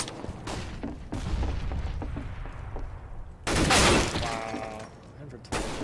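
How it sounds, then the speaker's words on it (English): Flashbang grenade thrown in a CS:GO competitive match, a sharp burst followed by a bright ringing hiss lasting about a second, amid scattered gunshots and clicks while players talk. "Throwing flashbang."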